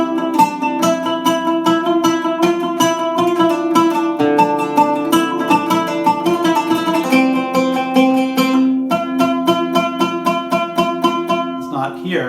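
Plucked oud phrases in maqam Jiharkah ring out continuously, notes picked rapidly over a sustained lower string, up close and fairly loud, no voices.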